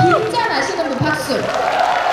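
An outdoor concert audience in Hoengseong claps and cheers in a dense, steady crowd wash with a voice speaking over it.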